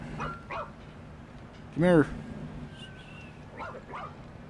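A dog barks once in the ReCore video game, a short harmonic yelp set between stretches of nearby speech.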